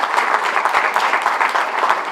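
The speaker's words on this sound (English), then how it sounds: "if we could start by giving them a round of applause" An audience at a high school senior awards ceremony claps for scholarship sponsors, a dense, steady round of applause in a hall that stays even in loudness throughout.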